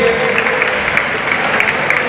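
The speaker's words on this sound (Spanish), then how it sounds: "Un aplauso para ellos, por favor." An audience claps for a band at a live performance, a dense, steady burst of applause throughout, loud and close, with a faint voice underneath.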